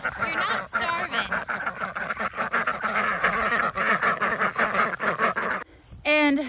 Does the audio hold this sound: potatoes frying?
no